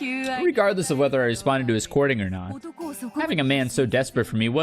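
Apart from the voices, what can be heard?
No everyday noise stands out behind the speech.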